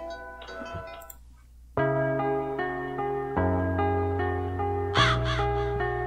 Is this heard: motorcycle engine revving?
no